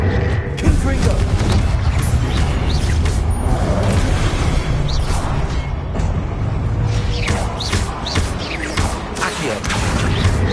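Confringo spell blasts in Hogwarts Legacy crack and boom amid clattering mechanical combat noise, repeated bursts over a steady loud bed, with a player speaking throughout.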